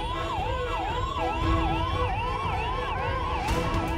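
An ambulance siren wails continuously in a repeating up-and-down cycle, loud and close, with steady road rumble underneath.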